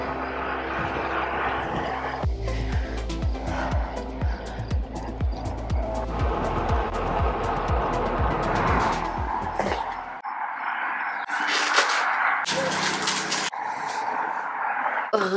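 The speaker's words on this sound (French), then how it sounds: "Voiture." Cars drive past near a lakeside road, engines roaring and swelling then fading, with a few tire squeals and sharp bursts toward the end, steady and fairly loud throughout.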